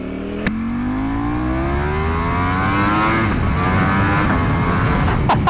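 A Ducati motorcycle engine revs hard and close, its pitch climbing steadily through one gear before a shift drops it, then it pulls upward again with a loud, continuous roar and no voices.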